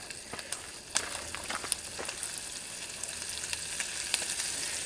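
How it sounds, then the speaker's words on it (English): Wet wood burning in a Kelly Kettle, steaming off moisture with a faint, continuous sizzle and hiss, scattered small crackles and pops throughout. "it's cooking off a lot of that moisture in that wood"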